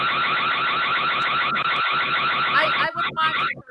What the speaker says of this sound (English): Ooh, an alarm.